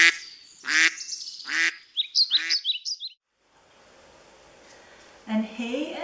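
A duck gives a few loud, nasal quacks up close, followed by a rapid run of higher chirping calls, then a short silence and a fainter call at the end.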